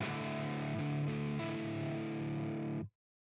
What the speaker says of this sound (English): The third chord is going to be almost like a double power chord,